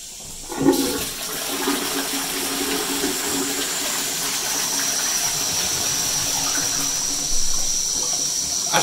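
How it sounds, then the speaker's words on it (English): Toilet being flushed after clearing a blockage, a loud close rushing and swirling of water that starts abruptly and keeps gurgling steadily as the bowl refills. "I'll give it another flush and hopefully the blockage will be gone"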